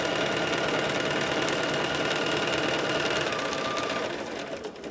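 Sewing machine running a zigzag stitch along fabric strips for a rug, a steady close rapid whir with dense mechanical clatter that continues throughout and eases slightly near the end.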